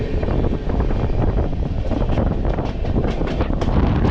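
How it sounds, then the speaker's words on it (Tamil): A passenger train on the Arakkonam to Katpadi line rushes past at night, loud and close, with a continuous rumble, rhythmic wheel clatter and wind buffeting the microphone. "அரக்கோணம் டு காட்பாடி போகிற ஒரு பேசஞ்சர் ட்ரெயின் உங்களுக்கு கரெக்டாக இங்கே கிராஸ் ஆகுதுங்க"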